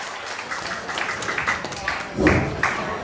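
Wedding guests applaud to welcome the bride and groom at a Vietnamese wedding ceremony, a steady crowd clapping that swells louder toward the end, with an announcer's voice speaking over it.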